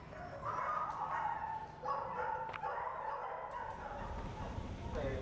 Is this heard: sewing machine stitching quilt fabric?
no